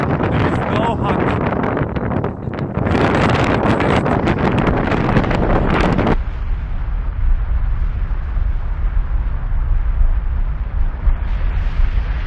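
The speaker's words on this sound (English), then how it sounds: "It is very windy here" Strong wind on an exposed Icelandic hiking trail with no shelter, heavy roaring gusts buffeting the microphone continuously, loud and close, easing slightly into a steady low rush partway through.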